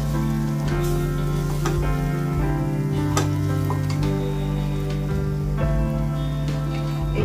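Spices, kitchen king masala and two kinds of chili powder stirred into hot oil for a green bean tadka, a steady loud sizzle with scraping spoon clicks against the pan throughout.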